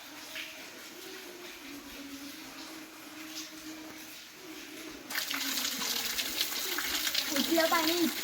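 Holy water flows steadily at the Keshavraj temple in Asud, Dapoli, a soft wash that swells into a louder, fuller gush partway through, with voices faintly present.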